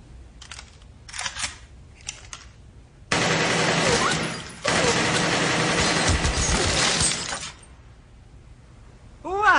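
Bursts of rapid automatic AK-47 rifle fire, two long sustained volleys with a short break between, preceded by brief voices and a few sharp cracks.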